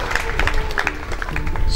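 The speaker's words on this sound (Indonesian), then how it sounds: "Tepuk tangan untuk negara kesatuan kita Indonesia tercinta" Applause breaks out in a hall during a university inauguration ceremony in Saumlaki, with brief, moderately loud clapping from an audience that sounds scattered.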